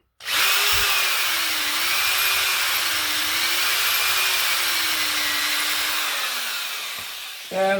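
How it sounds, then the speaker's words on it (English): A power drill with a larger bit whines steadily for about seven seconds as it bores into wood, loud and close, then winds down and briefly revs again at the end. "drill a little bit in again with the bigger bit, which we could do now"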